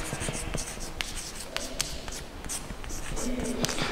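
Chalk or marker writing on a classroom board during a surface chemistry lesson, quick scratchy strokes and sharp taps in an uneven rhythm, close and fairly clear against room noise.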